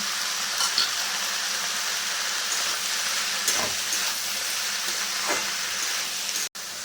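Potatoes fry in a pan for a prawn and banana-flower dal, giving a steady broadband sizzle with a few soft scrapes as they are stirred, close and continuous, ending in a brief dropout.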